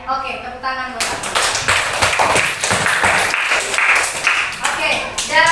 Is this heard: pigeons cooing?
no